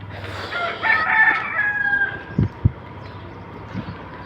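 A rooster crows once, loud and drawn out, followed by a few brief clucks and soft outdoor background noise.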